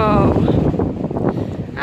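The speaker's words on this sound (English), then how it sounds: "it's a wet and windy and cold day" Wind gusts buffet the microphone on a wet, cold pier at a seaside train station near Ryde, a steady broad rush filling the short clip, loud and close throughout.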